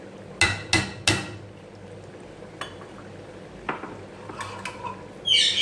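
Moong dal being mixed in a cooking pot: three sharp metallic clanks of a spoon against the pot come close together near the start, followed by a few softer taps over a quiet background.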